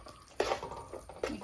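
A spoon stirs a thick homemade peanut candy mixture in a pot, giving a few scraping, sloshing strokes up close that come in irregular bursts.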